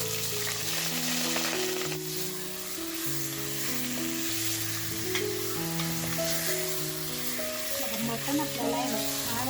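Mutton pieces with garlic and green chillies fry in a pan for a Kolhapuri white rassa, giving a steady, continuous sizzle and crackle over a sustained hum of tonal background music throughout.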